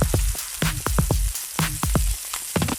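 Chicken drumsticks sizzle skin side down over hot charcoal, a steady close crackling hiss broken by sharp pops and spits of rendering fat, with no talk.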